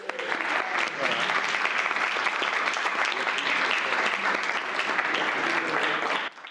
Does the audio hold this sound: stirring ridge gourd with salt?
no